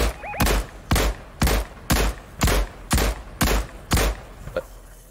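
Rhythmic bursts of gunfire in a video game, about nine evenly spaced loud shots over several seconds, each with a sharp crack and short ring-out, with faint electronic tones between.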